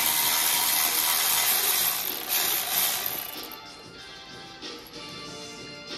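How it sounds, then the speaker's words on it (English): A Milwaukee power tool, probably an impact driver, works loose the manifold bolts on an engine with a broken valve spring, giving a loud continuous mechanical rattle up close that eases off and trails away in ratcheting bursts. "That Milwaukee decided to work"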